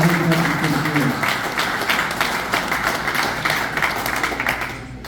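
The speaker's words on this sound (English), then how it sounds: "Round of applause for him." A room full of people at a men's closing-day awards event give a round of applause, steady dense clapping that holds for several seconds and fades at the end, with a voice talking over the start.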